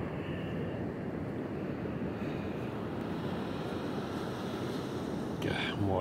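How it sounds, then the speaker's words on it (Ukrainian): Sea waves rolling onto the shore at the Baltic seaside town of Ustka, a steady broad wash of surf mixed with wind noise, continuous and moderately loud. "Море."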